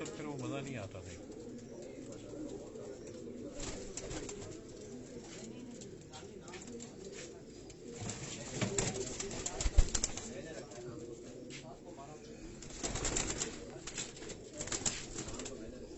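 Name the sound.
pigeons cooing, Rani breed pigeons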